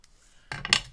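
Scissors trimming a sliver off a collage greeting card, heard as a couple of close, crisp snips and a brief papery rustle that follow a near-silent pause, with no talking.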